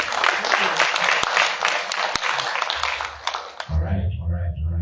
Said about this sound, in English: Round of applause for God.